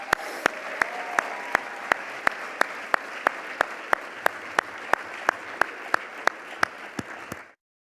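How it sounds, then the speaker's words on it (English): An audience at a university media arts scholarship awards ceremony claps in a continuous loud wash, with sharp regular clicks cutting through the applause before it stops abruptly near the end. "Can we give everyone a round of applause?"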